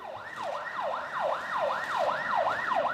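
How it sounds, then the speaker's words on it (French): An ambulance siren wails through the narrow alleys of Paraisópolis, a São Paulo favela, its rising and falling tone repeating steadily and fairly loud, with no voices over it. "L'ambulance se faufile dans les ruelles de Paraisópolis, la plus grande favela de la ville"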